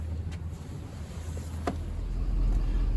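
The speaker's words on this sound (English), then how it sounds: "The truck was just started up." A Ford F-250 diesel pickup engine, just started, idles with a steady low rumble and hum, a couple of faint clicks over the continuous drone.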